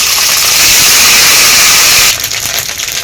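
Ginger paste drops into hot oil already fried with bay leaves, dried chillies and five-spice for a vegetarian jackfruit curry, giving a loud close hissing sizzle that cuts off sharply to a quieter crackle near the end.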